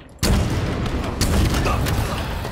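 Weapon fire from a cinder-shot gun in a multiplayer shooter game at a LAN party, a loud sudden blast that rolls into a sustained rumbling barrage with a second punchy hit partway through, all close and dense.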